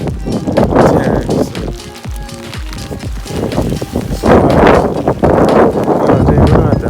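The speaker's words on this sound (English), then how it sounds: "It's been really windy." Strong wind buffets the microphone outdoors in a rumbling, uneven roar, with gusts swelling toward the end and a voice partly under it.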